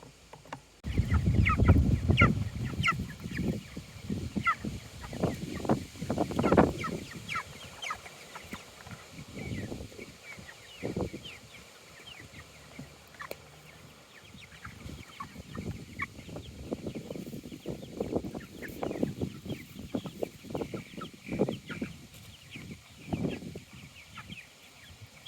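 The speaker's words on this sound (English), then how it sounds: "We have moved all of the current chickens and turkeys out of the brooder and into their shelters on pasture." Chickens and turkeys out on pasture cluck and chatter in irregular bursts, some calls close and others farther off, the busy flock noise rising and falling over a quiet outdoor background.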